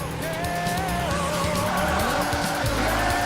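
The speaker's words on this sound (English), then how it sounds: "my car's just spinning out while he's going straight down a" Car skidding and spinning out in a Sega Saturn racing video game, with steady engine drone and sliding tire squeal running continuously at moderate loudness, no talking.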